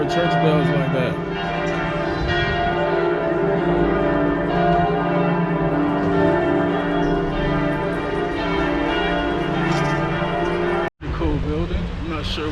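Loud, continuous peal of church bells in Cologne, Germany, with layered ringing tones that sustain throughout, briefly cut off near the end before the ringing resumes.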